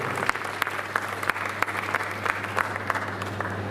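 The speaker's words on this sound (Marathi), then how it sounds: "एकदा जोरदार टाळ्या त्या सर्व महिलांसाठी" A crowd claps loudly and steadily in a dense, continuous burst of applause for the women organisers at a Marathi poetry event about social change, with no voices over it.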